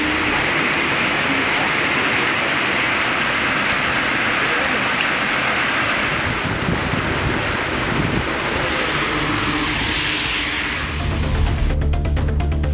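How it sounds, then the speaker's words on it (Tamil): Heavy rain driven by strong wind forms a loud, continuous hiss and rumble outdoors, steady throughout with gusty buffeting, and no speech is heard. "பலத்த காற்றுடன் மழை பெய்தது"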